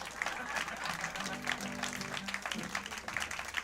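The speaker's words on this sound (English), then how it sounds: "Keep clapping, they're almost all here." Audience members keep clapping for the band at a St. Paddy's Day show at The Duncan Showroom, continuous crowd applause with someone talking over it.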